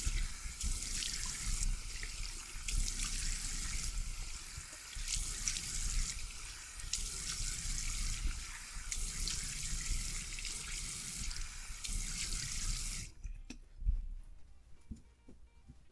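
Tap water runs steadily into a sink while a face is rinsed, with continuous splashing and gurgling up close, then the flow cuts off abruptly near the end, leaving near silence with a few faint drips.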